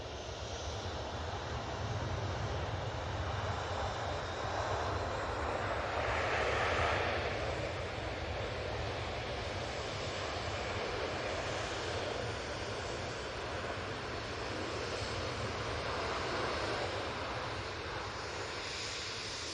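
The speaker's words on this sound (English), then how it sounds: "It's the Gulf Air 787-9 Dreamliner coming in from Bahrain." Gulf Air Boeing 787-9 Dreamliner arriving at Manchester Airport from Bahrain, a steady broad jet engine roar that swells slightly midway, distant and continuous with no talk.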